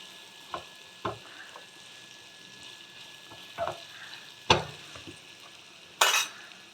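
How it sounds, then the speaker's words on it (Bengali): Ground spices with salt, turmeric and chilli powder fry in a pan for a fish curry, with a faint sizzle under scattered spoon scrapes and clacks, the sharpest strokes coming near the end. "এবার ভালো করে আমি মশলাগুলো ভেজে নেব।"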